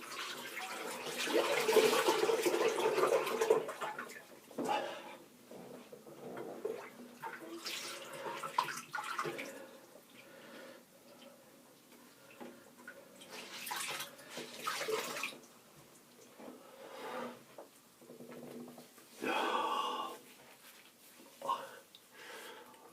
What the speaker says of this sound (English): I need to drain the sink. We're overflowing here.